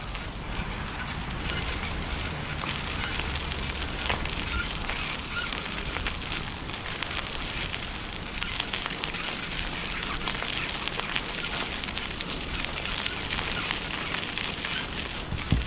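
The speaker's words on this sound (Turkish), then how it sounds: "bu yağmur beni su gibi edecek" Steady rain hisses and patters on surfaces nearby, a dense even crackle that continues without pause, with no one speaking.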